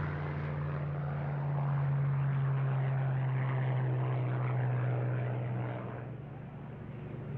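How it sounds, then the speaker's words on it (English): A Lockheed P-38, a twin-engine single-seat World War II fighter, drones steadily overhead with a loud, continuous propeller-engine roar that swells slightly and then eases, with no voices. "The Lockheed P-38 was an extraordinary airplane."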